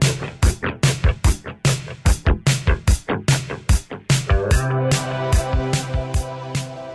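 Loud indie rock music: a pounding drum beat drives the first few seconds before sustained guitars and bass swell into a fuller, ringing passage.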